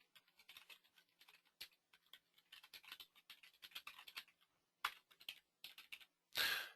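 Computer keyboard keys tapped in quick irregular bursts while entering referral contact details, close and fairly quiet, with brief pauses and a louder clustered flurry at the end; no talking.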